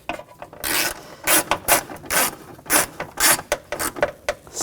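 Ratchet wrench snugging down bolts on a 2000-2006 BMW X5 HID ballast control module: bursts of quick clicking ratchet strokes in an irregular rhythm, close and fairly loud, with no talk.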